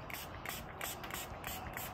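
Isocol alcohol sprayed from a bottle onto breathable fishing waders to find a leak, a quiet run of soft repeated hissing bursts in steady rhythm, close by with no talking.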